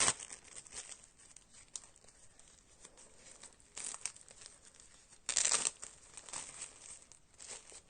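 Crinkly plastic packaging of sanitary pads is worked open up close, with repeated rustling, crackling and tearing in uneven bursts and one louder sharp crackle near the end.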